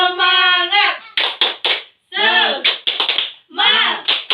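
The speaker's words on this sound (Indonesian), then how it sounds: "1, 2, 3. Tepuk semangat." A classroom group performs a rhythmic Indonesian spirit clap, with bursts of hand claps alternating with group chanting voices in short patterned phrases.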